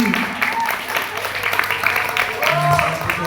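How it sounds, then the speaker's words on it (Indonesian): A crowd claps steadily, with chatter and voices mixed through the applause. "Tepuk tangan untuk Odi"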